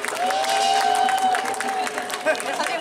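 Crowd applause and cheering at an anti-nuclear march rally in Gyeongju, marking the Fukushima anniversary, with sustained clapping across an outdoor crowd, a faint whistle-like tone and murmuring voices mixed in.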